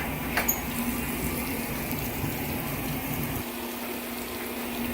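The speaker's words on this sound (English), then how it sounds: "Pull it out, cold water is going to be going, and it should fill it as high as it can go." A washing machine fills with cold water, a soft steady rush of running water with a faint mechanical hum, quiet and continuous, the low drone dropping away near the end.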